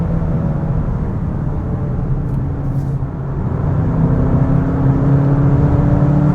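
A 2025 VW Jetta GLI with a manual gearbox accelerates from inside the cabin, its engine a loud, steady drone that rises slightly in pitch, with no talking.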